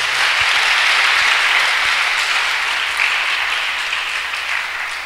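A large audience claps continuously, dense and even applause filling the room, tapering a little toward the end.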